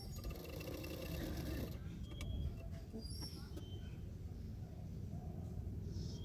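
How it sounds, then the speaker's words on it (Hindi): A sewing machine stitching the sleeve of a Madhubala-style blouse, a continuous low mechanical whir with a faint rattle, steady and fairly quiet throughout. "हाफ इंच मार्जिन रखकर मैं स्लीव सिलाई कर रही हूँ।"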